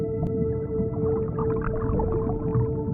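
A humpback whale calls underwater near the Ogasawara Islands, a continuous low moaning and creaking song that holds steady and fairly loud throughout, with no voices.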